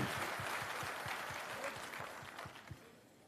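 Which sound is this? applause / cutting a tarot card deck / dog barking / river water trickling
applause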